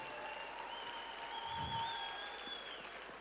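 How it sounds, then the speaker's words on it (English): A crowd at an alumni 50th anniversary event applauding, a faint, distant wash of clapping that holds steady throughout, with thin whistle-like tones above it. "Let's give them a great cheer."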